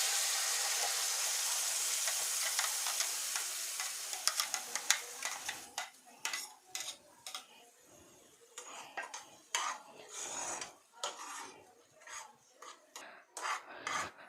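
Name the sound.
cumin powder and ground paste frying in a pan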